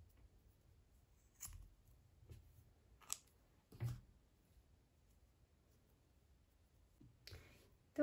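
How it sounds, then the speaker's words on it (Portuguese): Scissors snip crochet yarn in a quiet room, making a few short, sharp cutting clicks spaced apart over a low background hum. "vou cortar o meu fio, que eu vou trocar a minha cor."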